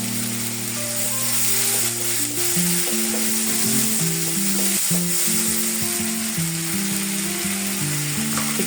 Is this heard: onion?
yes